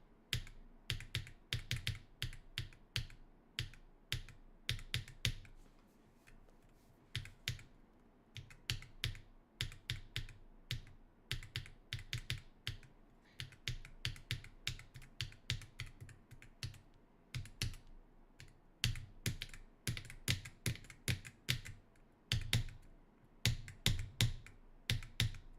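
Rapid bursts of mouse or keyboard clicking while playing the rhythm game level Acropolis, arriving in quick clusters with brief pauses, close and fairly loud, with no voices.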